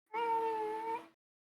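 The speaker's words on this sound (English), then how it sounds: "Sorry, that was my cat." A house cat lets out a single drawn-out meow, close and clear, tonal and steady before trailing off, heard alone in a quiet room.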